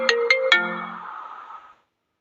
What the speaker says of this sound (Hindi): तभी उसके फोन की घंटी बजी।